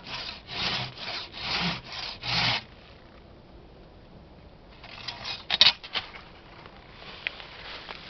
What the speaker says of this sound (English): let's do one or two more cuts with the Silky and Katana Boy before I do anything with the big boy